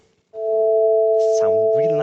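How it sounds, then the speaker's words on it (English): Two steady pure tones sound together a perfect fifth apart, a smooth, consonant blend; a voice starts talking over them partway through. "This is called what we call a perfect fifth."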